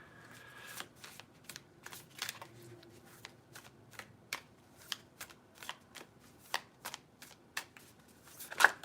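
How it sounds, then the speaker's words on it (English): Deviant Moon tarot cards being shuffled by hand, a series of short riffling bursts repeating roughly every half second, soft and close in a quiet room. "Oh, I'm getting worse at shuffling, I tell you."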